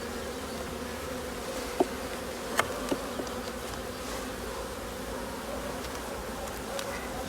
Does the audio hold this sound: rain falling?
no